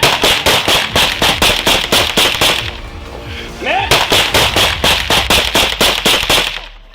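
Rapid bursts of gunfire crack out at night during a police confrontation, loud close shots in a fast rhythmic string, a brief pause with a rising whine, then another quick volley of shots.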